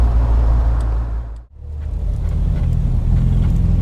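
An MGB Roadster drives along with a loud, close engine rumble and road roar, the drone briefly dropping away before building back up, slightly uneven and rough in tone, with no one speaking.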